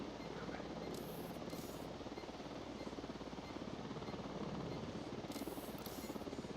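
Helicopter flying in a shooter video game, a continuous throbbing rotor roar at steady loudness with brief hissy bursts.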